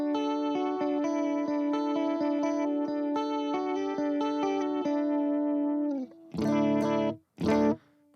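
An electric guitar played through a large pedalboard with a vibrato effect. Sustained wavering notes and chords ring out strongly, then a few louder distorted strums are cut off abruptly by short silences.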